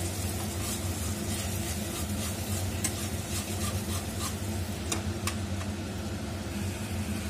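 Cashew and raisin paste sizzles in a frying pan with a continuous low frying hiss and occasional faint scrapes of stirring, quiet and close with no voices.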